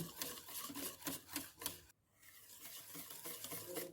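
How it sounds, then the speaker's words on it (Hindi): Powdered sugar and chaat masala are stirred into a fruit chaat mixture with soft, rhythmic rubbing and scraping strokes, pausing briefly midway before the quiet mixing continues. "इसमें अब हम पिसी हुई चीनी शामिल करेंगे और चाट मसाला शामिल करेंगे और इसे अच्छी तरह से मिक्स करेंगे हम।"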